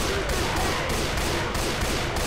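Dense, continuous rapid gunfire in the zombie video game Left 4 Dead, several weapons firing together in a loud, rhythmic barrage with no pause.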